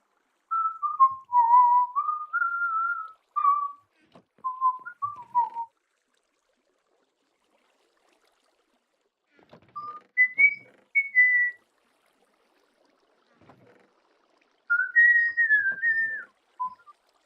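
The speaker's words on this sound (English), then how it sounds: "I do whistle quite a lot during the stream." A person whistles a wandering tune during a Minecraft survival stream, clear and fairly close, in three separate phrases with long silent gaps between them and no talking.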